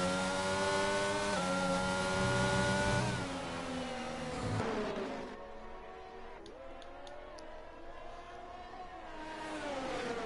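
Sim racing cars, a Ferrari, a Mercedes and an Aston Martin, race at the Austrian circuit, their engines revving with rising and falling pitch as they pass, then dropping away to a quieter whir before building again.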